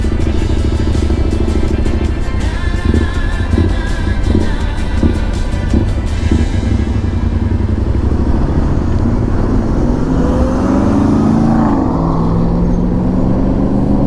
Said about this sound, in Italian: andiamo dietro a queste motociclette